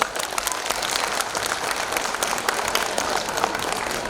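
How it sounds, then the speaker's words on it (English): Applause from an audience at a cultural fiesta of raga and taal, a dense, continuous patter of many hands clapping at even loudness for the whole stretch. "I feel wholeheartedly needs a very big round of applause."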